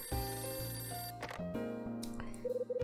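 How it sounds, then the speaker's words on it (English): A telephone rings in the video game Hotel Dusk: Room 215, a clear electronic bell tone over soft game music, ending in short repeated trills, with no voices. "Phone's ringing."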